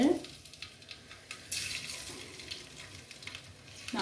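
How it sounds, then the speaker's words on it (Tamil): Halved boiled eggs sizzle in hot oil in a home kitchen pan, a soft crackling hiss with a brief louder burst partway through. "ஆயிலில் வந்து இப்படி ஃப்ரை பண்ணிக்கலாம் முட்டையை"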